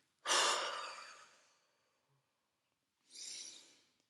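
Two deep cleansing breaths taken during labour, a strong airy exhale that fades out over about a second, then after a pause a second softer breath, both close and unaccompanied.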